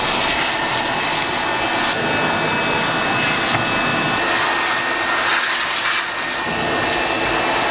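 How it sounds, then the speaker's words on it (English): Loud, steady vacuum cleaner roar while the floor inside a 1973 VW Beetle is cleaned out after old carpet and glue removal, a constant whooshing drone with slight pitch shifts as the nozzle moves. "now we're gonna go ahead and vacuum all of this out, clean up the floor"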